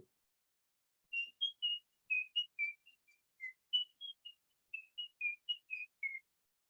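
Human whistling mimics a bird's song, a sweet phrase like "pretty sweet I will beat you": short crisp notes in three quick groups, fairly faint but clean against silence.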